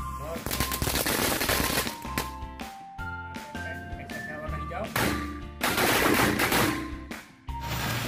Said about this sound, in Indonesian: Selanjutnya kita nyalakan mercon korek Corsair warna hijau XXL KTP.